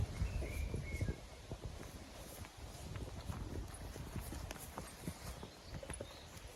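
Stallions' hooves clop steadily on hard ground as they walk nearby, an uneven rhythm of hoof strikes over a low outdoor background.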